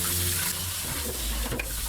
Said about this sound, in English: After that, rinse the chicken clean